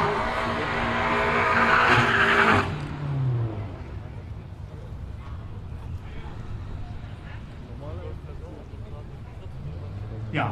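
Ford Focus RS and BMW M5 at a quarter-mile drag race, a loud roaring launch with tire noise for a few seconds, then fading into crowd murmur and commentary as the cars pull away.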